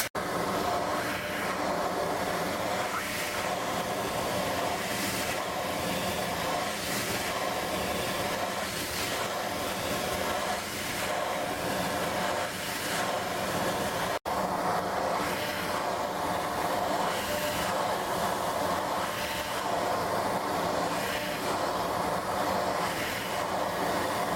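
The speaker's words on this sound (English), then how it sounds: "I just changed the drum sander to this size" A drum sander runs with dust collection on wood for a wiener-dog bank, a loud, continuous whirring roar with rhythmic swells as the workpiece is pressed and moved, close and alone.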